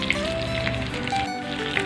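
Keema aloo cutlets, made from minced meat and potato, sizzle and fry in a pan, with a steady soft crackle and occasional tiny pops, close up and fairly quiet, with no voices.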